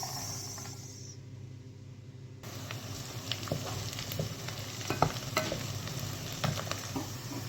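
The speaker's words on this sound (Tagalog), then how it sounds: "naglagay na ako ng mantika. Lagay natin yung una is sibuyas." Sliced onions fry in hot oil, giving a steady broad sizzle with scattered crackles and stirring clinks that grow busier partway through, close by with no talk.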